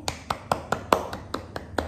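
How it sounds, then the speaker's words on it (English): A small group of children clap together in a slow, fairly even rhythm, about nine crisp claps, close by and dry in a quiet room. "Shall we all clap for them?"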